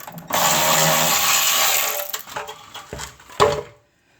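A power tool spins off a 12 millimeter front subframe bolt on a 2003 Subaru Impreza TS, giving a loud close whir for about two seconds, then a few clanks of metal before it goes quiet.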